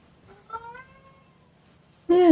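A hungry house cat meows indoors, a soft rising-falling call followed by a louder, sharper meow at the end, close to the listener with no talk over it.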